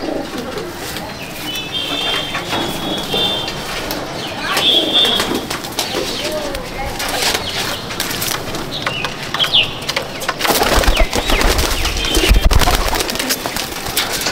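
Several pigeons in a loft coo low and repeatedly, with brief chirps, a burst of wing flapping and rustling near the end, all fairly close.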